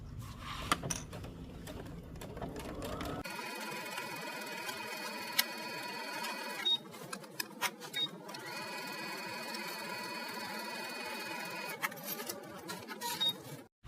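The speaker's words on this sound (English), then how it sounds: "Then we'll take it to the machine and we'll stitch the seam" A sewing machine stitches a shirt seam in a steady, continuous whir, briefly pausing and restarting midway, with small clicks and ticks over the running motor.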